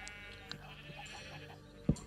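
Sheep bleating in the Minecraft video game, heard as short, faint calls over a steady game background, with one louder bleat near the end.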